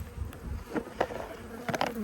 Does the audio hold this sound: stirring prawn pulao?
no